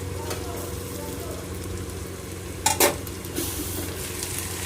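Potatoes fry in a pan with a steady soft sizzle, broken by a couple of sharp clinks of a utensil against the pan while stirring.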